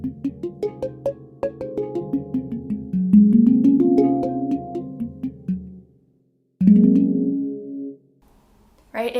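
Muted notes played on a Neotone digital handpan: a run of short, dampened plucked tones rising and falling in quick succession, then longer sustained bending tones, with pauses between phrases.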